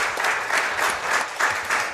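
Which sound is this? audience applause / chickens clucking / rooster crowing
audience applause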